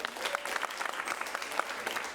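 Short burst of applause from a small group, scattered claps pattering at moderate loudness for a couple of seconds with no voices over it.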